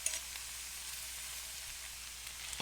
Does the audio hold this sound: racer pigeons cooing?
no